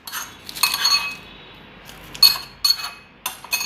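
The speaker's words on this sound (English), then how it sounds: "We're gonna just give it a little mix." A utensil scrapes and clinks against a bowl while mixing chicken sandwich filling with tomatoes, in several short bursts, close and crisp, with quiet pauses between strokes.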